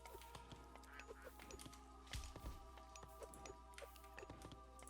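Ducks quacking in the strategy video game Age of Mythology, brief calls scattered through busy in-game ambience with clicks and a steady low hum.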